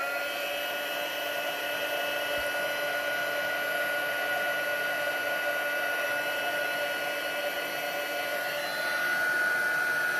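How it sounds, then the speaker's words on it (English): A heat gun blows continuously during heat embossing of sticky stamped ink in a papercraft card-making setting, a loud, steady whirring hiss with a constant motor whine that swells slightly toward the end. "and I've got my heat gun."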